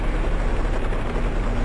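Helicopter in a Resident Evil spinoff video game, a steady, loud rotor drone with a dense low throb holding unbroken for a short stretch, no voices over it.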